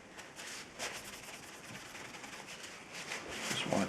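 A knife blade is rubbed with 600 grit wire wool, making a soft, continuous scratchy rasp of back-and-forth strokes, close but faint, with no voices.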